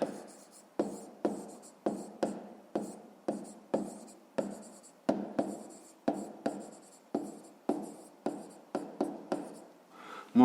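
Pen strokes scratch across paper as digits are written by hand, a quiet, evenly paced series of about twenty short scrapes heard close up.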